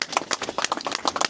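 Applause for the second-place women's finisher at the Montane Winter Spine Race podium ceremony: a brief burst of clapping from a small gathering, uneven and close.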